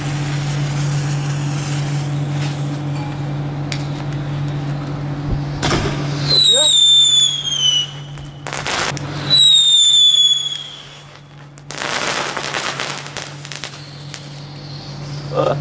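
Aldi consumer fireworks fizz and whistle with sharp bursts and crackling, several shrill rising whistles, over a steady background hum and some voices.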